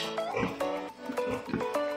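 Pigs in a farm pen of about seven animals give several close, loud grunts and oinks in quick, uneven bursts with short pauses between them.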